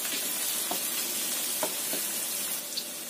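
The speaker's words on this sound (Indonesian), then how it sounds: "Kita tumis sampai tercium bau enak" Grated garlic and ginger stir-frying in a pan for Mongolian chicken, giving a steady close sizzle with occasional scraping clicks of stirring, no talking.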